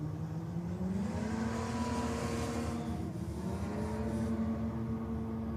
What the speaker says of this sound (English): BMW hatchback taking on the RX-3